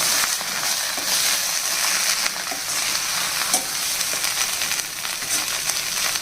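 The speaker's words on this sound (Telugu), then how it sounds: "ఒకసారి అంతా బాగా కలిపేస్తే ఈ పోపు ఈ కూర అంతటికి అవుతుంది అన్నమాట." Ponnaganti leaf curry with toor dal and coconut is stirred in a pan as the tempering is mixed in, giving a steady loud sizzle with scraping strokes throughout.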